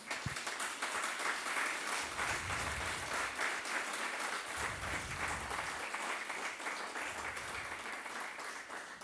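A church congregation claps as an offering of praise during a Spanish-language sermon, a sustained wash of applause heard at a moderate distance, with low rhythmic thumps beneath it.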